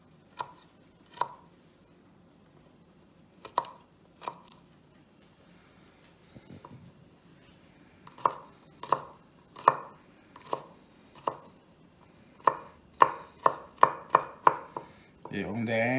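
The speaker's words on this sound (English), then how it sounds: "Even with the garlic, we try to chop a little bit smaller than usual." Garlic is chopped with a knife on a cutting board in a cooking class, sharp close taps coming in short bursts with pauses, then quickening into a rapid run near the end.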